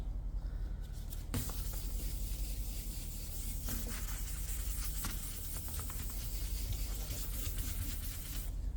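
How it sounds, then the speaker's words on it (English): Continuous wet, scratchy rubbing as a car panel's clearcoat lacquer is wet sanded, a steady abrasive hiss with a few sharper scuffs along the way. "Now we are sanding the clearcoat lacquer"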